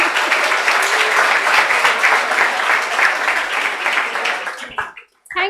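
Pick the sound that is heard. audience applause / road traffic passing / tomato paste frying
audience applause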